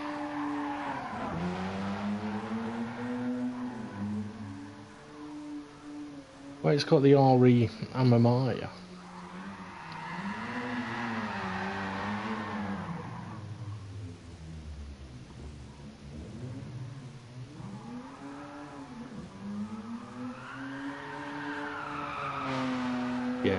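A race car in a racing video game drifting through corners, tyres squealing loudly in a harsh burst midway over a wavering, revving engine, while someone talks over much of the driving.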